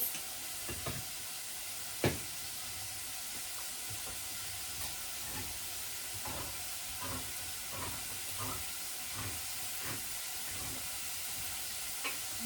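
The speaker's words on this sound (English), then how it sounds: "Let's stir the onions. And whilst they're cooking" Onions cook in a pan, a faint continuous sizzle and hiss broken by occasional soft scrapes and knocks as they are stirred.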